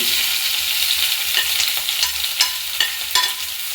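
Hot coconut oil boils and sizzles steadily close by, with a few sharper pops and spits breaking through the hiss.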